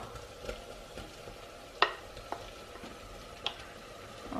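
Fresh tomatoes sizzling and frying in a pan for a traditional Roma Italian tomato sauce, a soft steady crackle with a few sharper clinks and stirring sounds.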